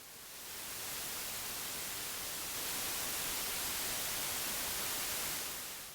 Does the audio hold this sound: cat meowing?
no